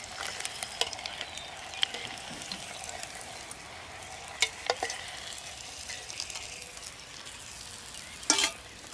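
Bluegill fish fry in oil on a Solo Stove with a soft, steady sizzle and crackle. Faint scraping and stirring clicks rise briefly above it, with no voices.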